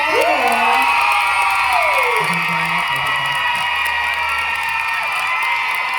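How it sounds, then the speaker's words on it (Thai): A crowd of fans shrieks and cheers together at a live stage event, high excited screams rising over a noisy, sustained roar. "วันนี้เสียงกรี๊ดแต่ละท่านนี่โอ้แฟนคลับ"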